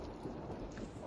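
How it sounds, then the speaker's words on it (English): Steady rain falls in Johannesburg, a dense even hiss of drops at a dam on a rainy day, continuous and fairly close with a low rumbling undertone. "We've been in the rain the whole day."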